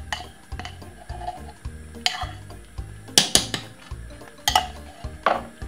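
A spoon stirs cornmeal porridge in a pot, giving repeated close knocks and scrapes against the sides in an irregular rhythm, with a few sharper clinks standing out and no talking.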